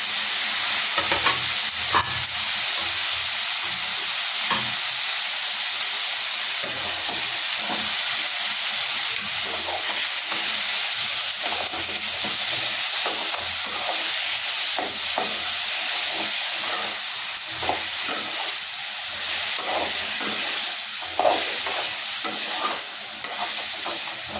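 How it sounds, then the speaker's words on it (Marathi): Pumpkin vegetable stir-frying in a hot pan, a steady loud sizzle and hiss with repeated scraping stirs throughout, no voices. "आता आपण ही भोपळ्याची भाजी त्यात टाकूया."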